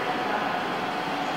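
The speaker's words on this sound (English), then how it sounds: "here comes the train" A train pulls into a station platform, a steady broad rumble and rush of wheels and air filling the short stretch without a break, close by and fairly loud.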